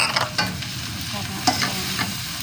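Meat sizzles steadily in a hot pan for a few seconds, a close, even hiss with a few soft scrapes and clinks of stirring on top. No one talks.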